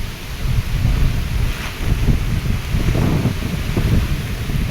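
Heavy rain pours down at a farm field in the countryside while strong gusts of wind buffet the microphone, with deep thunder rumbling steadily throughout; no talking.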